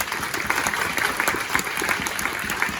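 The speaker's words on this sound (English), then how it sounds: "so give yourselves a round of applause" A conference audience at a golf event gives a steady round of applause, a dense even wash of many hands clapping at moderate distance, continuous for a few seconds with no talk.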